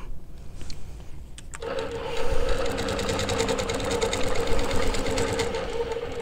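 Longarm quilting machine stitching Baptist fan rows guided by rulers: a steady, rapid mechanical whir with rhythmic needle clatter starts after a short quiet handling moment and runs continuously, close and fairly loud.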